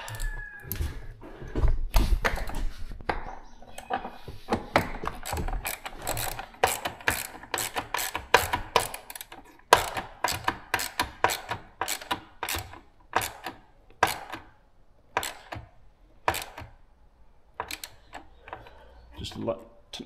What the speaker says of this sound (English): nice tiny little ratchet